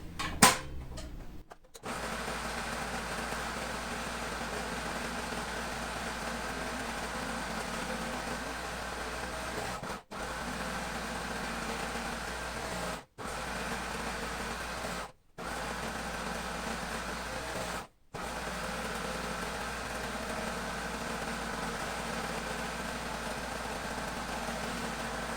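A serger sewing machine stitches the edges of a patchwork quilt coat, a steady close mechanical hum running for long stretches with a few brief stops and restarts.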